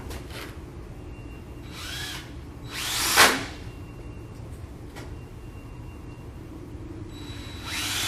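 A power drill drives 2-inch screws into a door transom in a few short bursts of whirring, one louder than the rest, separated by pauses over a steady low background rumble.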